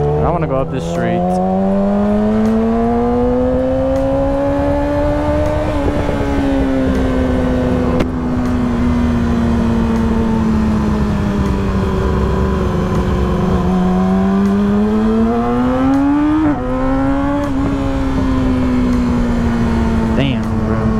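Motorcycle engine rumbles continuously while riding on a street, its pitch rising and falling as the rider accelerates and shifts gears, loud and close throughout.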